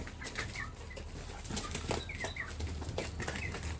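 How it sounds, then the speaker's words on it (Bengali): Naked neck chickens cluck and murmur in short, scattered calls, with occasional rustling and wing flaps, moderately close in a quiet farmyard setting. "এই যে গলা ছিলা মুরগিগুলো সবগুলো সুস্থ সবল আছে।"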